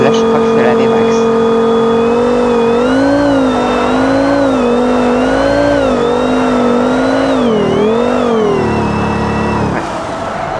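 A car engine holding its top speed of 318 km/h, a loud, close, sustained high-rpm drone with wavering pitch, dipping and dropping off near the end, with a voice heard faintly in places.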